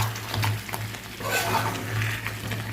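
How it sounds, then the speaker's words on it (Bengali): Chicken pieces and potatoes sizzle and fry in a pan for a Bengali chicken curry while being stirred, a steady crackling hiss with soft scraping of the spoon throughout. "এবার চিকেনটা ভালো করে কষতে থাকবো।"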